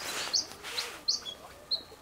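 A small red bird in a botanic garden rock garden gives four or five sharp, high chirps spaced about half a second apart, fairly close, with no talking.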